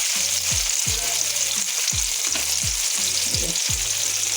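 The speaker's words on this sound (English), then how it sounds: "we're making the gravy" Gravy with chili powder sizzling and frying in a pan, a steady hiss broken by regular scraping stir strokes about every half second, close and alone.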